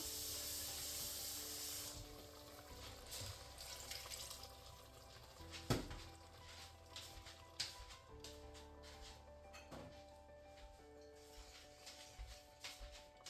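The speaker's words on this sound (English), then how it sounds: "Put more water." Water runs and splashes into a pot of cabbage and duck stew, a steady faint hiss with scattered soft clinks and knocks over a low background.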